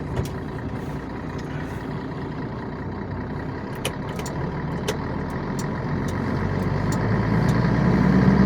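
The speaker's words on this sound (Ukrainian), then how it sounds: "заводимо нашого мана, ми будемо возити" A MAN truck engine idles with a low, steady diesel rumble, a few faint clicks and knocks over it, and the engine note swells gradually louder toward the end.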